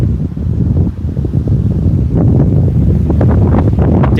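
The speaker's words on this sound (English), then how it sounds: "damn, that wind is insane" Strong outdoor wind buffets the microphone at night under a northern lights sky, a loud continuous low roar and rumble with gusty surges throughout.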